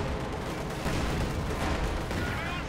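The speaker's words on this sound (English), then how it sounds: "the Pack 40 is just shooting away" Pak 40 anti-tank gun fire in the Company of Heroes 2 battle game, a dense, continuous barrage of booming shots and explosions blending into a roaring wall of combat noise, without voices.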